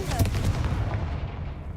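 A Confringo fire spell blast from combat in Hogwarts Legacy: dense, loud explosive bursts with a sharp hit near the start and a rumbling tail, alongside a brief shouted voice.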